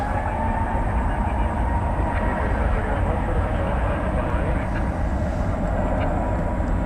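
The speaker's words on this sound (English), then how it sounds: "There goes an Airbus A320 Neo." An Airbus A320neo passes on the runway at DFW Airport at night, a loud, steady broadband jet roar that holds without letup for the whole stretch.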